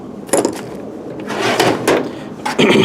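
A wooden tool-box drawer holding power tools and gloves slides open with a few knocks and a rolling scrape, contents rattling briefly as it moves.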